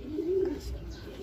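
Pigeons in a loft give a soft, low coo, one brief throaty call, faint and close.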